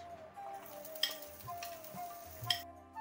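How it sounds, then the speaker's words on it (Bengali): Chopped onion frying in hot oil in a pan for a fish-roe fried cake snack: a soft steady sizzle with a couple of sharp utensil clicks, close and quiet, no voices. "তেলটা গরম হচ্ছে, তার মধ্যে দেব হচ্ছে পেঁয়াজ কুচি"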